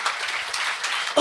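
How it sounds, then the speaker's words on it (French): A live comedy audience at a gong-show style stand-up event applauds a comedian, giving a brief, even wash of clapping that is partly overlapped by speech. "on peut l'applaudir encore"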